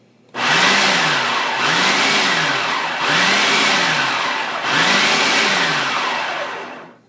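A food processor pulses pie crust dough as water is added by the tablespoon, four loud, steady motor bursts of about one and a half seconds each, with pitch rising and falling in each burst and no talk over it.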